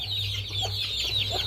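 Chickens and chicks feeding on chopped onions, a cluster of soft, quick clucks and chirpy peeps close by, continuous and busy over a low background hum.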